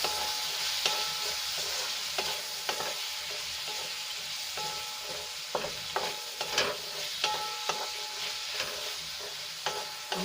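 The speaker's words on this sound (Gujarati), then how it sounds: "બધું આપણે સરસ રીતે મિક્સ કરીને 1 મિનિટ માટે સાંતળી લઈશું" Garam masala powder and other spices are sautéed and stirred in a pan, giving a steady close sizzle broken by repeated spoon scrapes and taps, with no talking.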